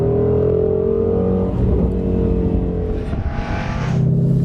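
A Mustang Shelby GT350's powerful engine revs hard, its deep roar climbing in pitch through a gear change, loud and close.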